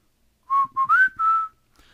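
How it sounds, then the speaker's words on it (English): A person whistles a short, clear tune of four quick notes, the third sliding upward, alone in a quiet room. "you look and I'll whistle"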